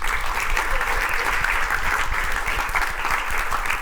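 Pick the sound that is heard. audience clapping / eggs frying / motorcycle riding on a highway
audience clapping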